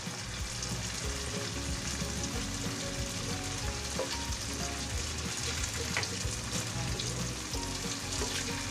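Tofu frying in hot oil, a dense and steady crackling sizzle that carries on without a break, close and fairly loud, with no talking.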